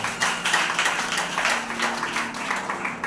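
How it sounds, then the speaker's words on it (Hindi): A church congregation claps during a sermon, with a few seconds of steady, fairly loud clapping from many hands and a rhythmic, slightly uneven patter. "ताली बजाएंगे"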